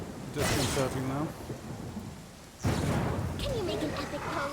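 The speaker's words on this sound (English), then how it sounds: "The thunder is somewhat disconcerting now." Thunder rolls twice in Pathfinder Kingmaker, each a loud broad rumble that swells and fades over steady rain, with voices talking over the storm.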